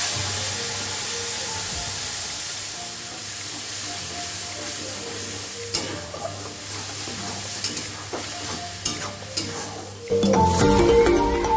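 Ginger, garlic, onion and tomato spice paste, cooked with bay leaf and garam masala, sizzles steadily in a pan, with occasional scraping clinks of a utensil stirring and a louder sputter near the end.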